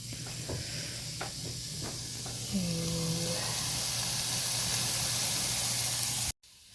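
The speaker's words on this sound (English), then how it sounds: "you can hear the sausage starting to sizzle" Soft, steady sizzling hiss of sausage frying in a pan, with a few faint clicks and a brief low hum partway through.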